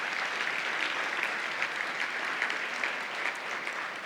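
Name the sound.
applause from the luncheon audience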